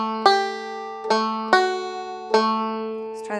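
Bright banjo notes plucked one at a time in a slow, halting phrase from the Irish tune The Harvest Home, each twangy attack ringing out clearly with no voices.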